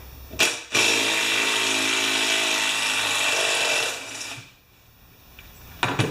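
A Craftsman 6.5 hp lawn mower engine with a mulching blade fires up abruptly into a loud, steady, high buzzing drone held for about three seconds, then winds down and fades, with brief sharp noises at the start and end.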